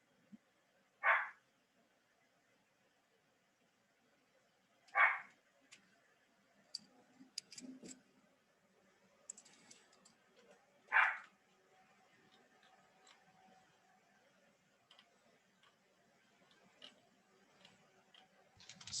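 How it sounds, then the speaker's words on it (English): A dog barks in the background of a room, three loud sharp barks spaced several seconds apart with quieter clicks and faint sounds in between. "see what's wrong with that dog."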